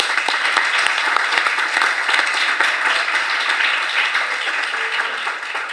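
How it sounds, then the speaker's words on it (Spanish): Audience applause fills a university lecture hall at the end of a talk on Stuart Hall and cultural studies: a dense, steady wash of many hands clapping close by, holding strong throughout and easing slightly at the very end. "Al menos un aplauso."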